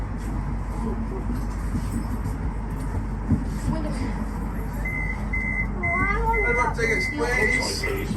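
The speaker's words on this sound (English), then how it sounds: "We're riding the Blackpool Tram from the Pleasure Beach all the way to the Norbreck Castle" A Blackpool tram rolls along the promenade, a steady low rumble filling the ride, with rising squealing tones from the wheels or rails toward the end.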